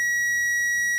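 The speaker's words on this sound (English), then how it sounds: "We're going to turn on the annoying alarm here" Power Probe demo board alarm giving a single steady, piercing electronic tone that holds unbroken for about a second, close and loud with no talk over it.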